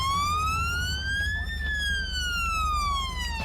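Police car siren wailing in a Grand Theft Auto V police patrol, a loud, steady electronic tone that sweeps slowly up and then back down over a low engine rumble, with no talking over it.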